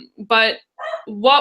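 A dog named Penny gives two loud, close barks about a second apart, with a person talking in between.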